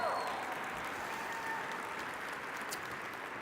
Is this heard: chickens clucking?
no